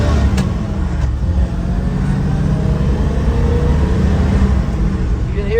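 A 1956 Chevrolet Bel Air 210 with a four-barrel carburetor runs smoothly while driving in third gear, its steady engine drone and road rumble continuous throughout.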